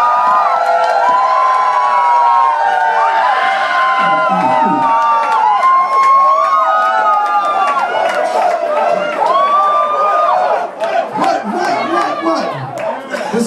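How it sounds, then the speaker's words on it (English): A loud crowd screams and cheers continuously, with whoops and shouted voices rising over a dense roar of chatter. "I want y'all to scream really loud for Dr. DeMarco!"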